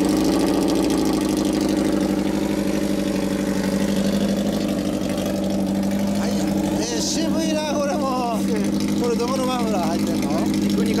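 A 1995 Kawasaki Zephyr 400 (ZR400) motorcycle with a Yamato collector exhaust idles at close range with a steady, throaty rumble, while people talk over it in the second half.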